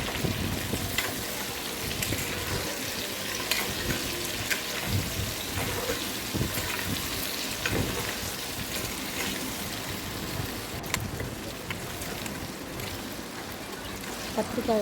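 Eggplant pieces frying in oil for an oil-brinjal egg curry, stirred now and then, giving a steady dense sizzle throughout with occasional scraping and clatter of the spoon in the pan.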